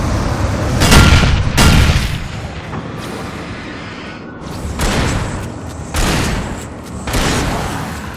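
Gunshots in the video game Alan Wake boom out as a rapid series of heavy, reverberant blasts in clusters, loud and close, separated by brief lulls of rumbling ambience.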